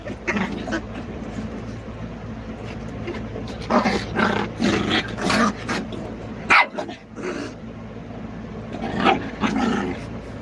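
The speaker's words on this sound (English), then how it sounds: "It's so cool to see mama and puppies fight." A mother dog and her puppies play-fight up close, with bursts of growling, snarling and yipping barks rising and falling over roughly ten seconds.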